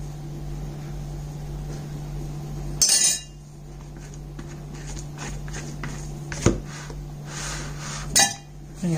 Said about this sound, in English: Clean your spatula.